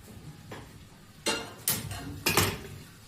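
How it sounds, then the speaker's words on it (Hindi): A pressure cooker is set down in a home kitchen, producing three close metallic clanks spaced about half a second apart over quiet background noise. "कुकर रख रही हूँ"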